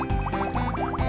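Cartoon water gurgling through a tube in a children's educational fruit and alphabet game, with quick bubbly glugging tones that rise and fall in a short burst.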